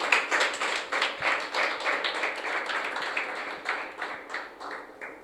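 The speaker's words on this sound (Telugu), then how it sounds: "చప్పట్లు కొట్టు ఒకసారి." A church congregation clapping hands together in a steady burst of brisk, fairly close claps that continue throughout, with no talking over them.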